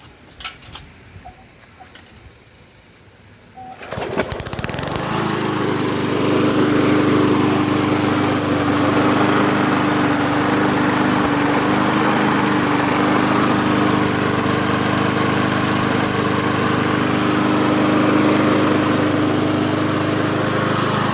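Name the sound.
Briggs and Stratton small engine running after carb diaphragm replacement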